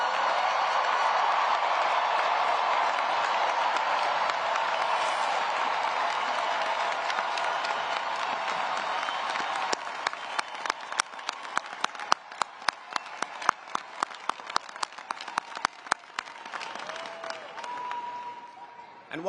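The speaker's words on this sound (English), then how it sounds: "please stand so that we can give you the appropriate applause" Sustained applause from a large commencement crowd for Howard University's class of 2023 graduates, a dense steady roar that thins into separate loud claps over its last half and then fades.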